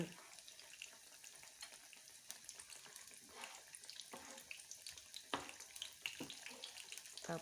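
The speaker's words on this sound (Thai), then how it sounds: "ทอดกล้วยสักห้าชิ้น" Banana pieces frying in hot oil give a faint, steady sizzle with scattered crackles and pops, heard quietly and close.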